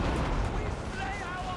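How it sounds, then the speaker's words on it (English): Rocket batteries firing in the Total War Warhammer 3 strategy game, a dense rumbling barrage of launches and blasts rolling continuously under faint high whistling streaks. "open up the rocket batteries. Alright, so rockets heading out."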